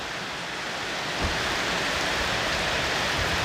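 Night rain easing off falls in a steady, even hiss of drops on surfaces, broad and continuous without pauses, with a slight gust of wind partway through.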